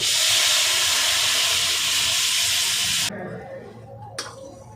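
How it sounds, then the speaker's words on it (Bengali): Milk boiling hard in a pan, reduced to make malai for soaking pitha; a loud, close, broad steamy hiss fills the first three seconds, then drops to a quieter bubbling with a brief burst near the end. "বন্ধুরা দুধটা দু তিন মিনিট মতো আমি জাল করে নিয়েছি"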